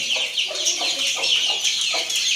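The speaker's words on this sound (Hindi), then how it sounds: "इन चूज़ों को खुला छोड़ते हैं और देखिए कैसे बाहर आते हैं।" Quail chicks released from a cage chirp and peep in a busy, high-pitched chorus, with repeated short calls overlapping steadily and fairly close.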